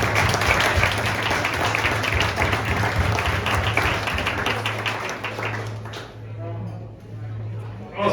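An audience at a community award ceremony claps for graduates, dense sustained applause that holds steady and then thins out toward the end, with a low steady hum underneath and faint voices mixed in.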